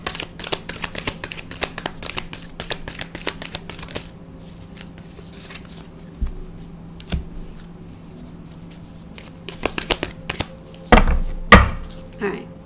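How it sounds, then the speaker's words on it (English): A deck of tarot cards being shuffled by hand, with rapid crisp riffling clicks at the start, a quiet pause, then more bursts of shuffling and a few louder thumps near the end. "Let me do one more shuffle."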